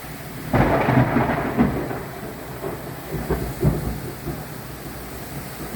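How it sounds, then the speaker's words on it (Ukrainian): Deep rumbling thunder rolls through a steady roar of heavy rain, with a couple of louder crashes rising above the downpour. "в нас гроза почалась. За вікном, можливо, буде чути вітер, грім"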